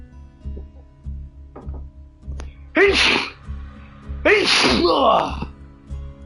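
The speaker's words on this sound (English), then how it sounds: "Ooh, sneezing." Two loud sneezes burst out a second or so apart, close and sharp, after some quiet clicks and shuffling.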